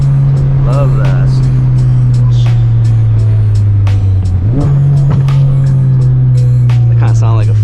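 Ford Focus RS with a carbon fiber intake accelerating hard from the driver's seat, a loud steady engine drone that climbs in pitch as the car pulls, with short voices and cabin noises on top.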